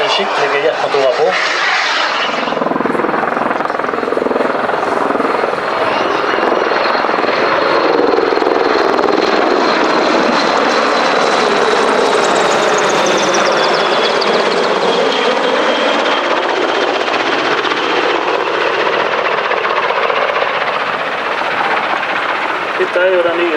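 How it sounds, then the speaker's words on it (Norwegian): A new helicopter type that replaced the old Sea Kings flies at the Stord airshow, its rotor and engine roar loud and sustained throughout, rising then slowly easing, with a voice talking over it. "Dette er jo den nye flytypen, eller helikoptertypen, som har overtatt etter disse gode gamle Sea Kingene."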